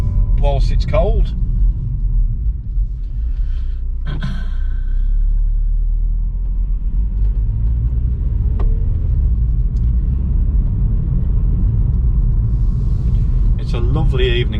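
A cold Renault Clio RS 220 Trophy engine idles with a steady low rumble on a Derbyshire evening, while someone talks over it and a few brief swooshes pass.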